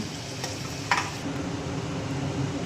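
Marinated chicken pieces sizzle and crackle in hot oil with a brief clatter of a stirring utensil.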